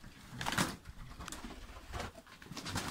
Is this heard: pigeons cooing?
yes